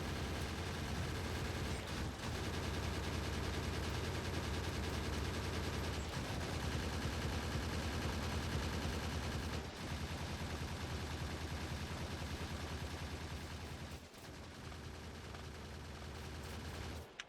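Turrets fire continuously in Factorio, a dense unbroken stream of rapid gunfire that blurs into a loud steady rattle with a few brief dips, dropping off near the end.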